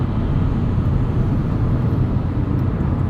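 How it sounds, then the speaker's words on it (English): Road noise inside a 2022 Subaru WRX Premium with a 6-speed manual cruising at 75 mph: a steady, loud low-frequency roar and tire rumble filling the cabin without pause, with no talking. "Road noise here, 75 miles an hour, isn't terrible."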